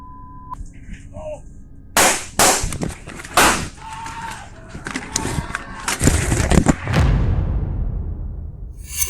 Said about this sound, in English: Those horrifying sounds you hear are actually gunshots recorded live at an online gaming event